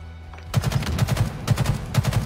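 Rapid automatic gunfire in the video game Halo during a collegiate match, tight bursts of punchy shots firing in quick rhythmic strings, loud and close.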